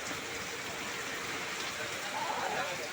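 Heavy rain falls hard at a roadside junction, a continuous rushing wash that swells slightly near the end, with faint, muffled voices somewhere beneath it.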